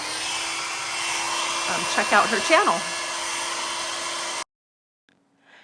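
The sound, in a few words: hair dryer blowing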